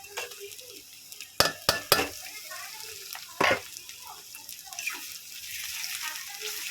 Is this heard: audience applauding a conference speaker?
no